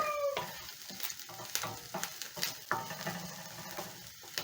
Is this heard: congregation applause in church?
no